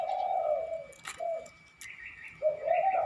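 A spotted dove coos nearby in a few soft, low, hollow phrases with brief pauses between them. Faint chirps and a thin steady tone sit in the background.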